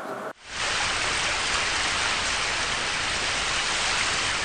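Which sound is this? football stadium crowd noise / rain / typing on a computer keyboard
rain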